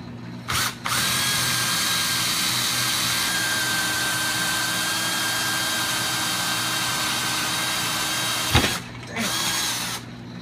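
A power drill whines loudly and steadily for about eight seconds, drilling a 5/16 hole with oil for a Chevelle pedal assembly, with brief stops and restarts at the start and near the end.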